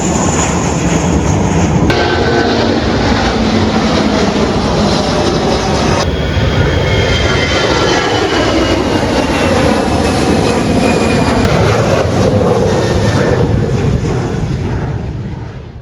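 A low-flying aeroplane passes over the Sandals Montego Bay resort, a loud, continuous jet roar that dominates throughout and fades slightly at the end, with no voices.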